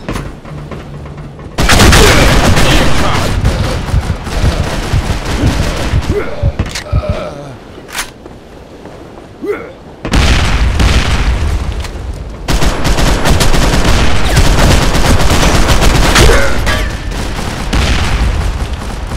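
Bombs explode in the District 187 video game, with loud sustained booms and gunfire-like blasts filling most of the stretch and a brief lull in the middle; a voice speaks now and then.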